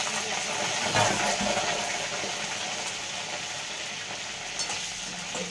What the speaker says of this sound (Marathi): आपण आता हे वांगे कापलेले आहे ते टाकून तेलामध्ये तळून घेऊ.